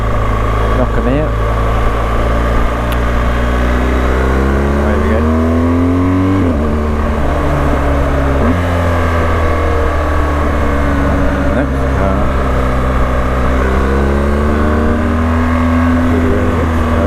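A car engine revs hard and climbs through the gears during overtaking manoeuvres, with rising and falling pitch sweeps at each shift, loud and continuous from close by, with a voice talking over it.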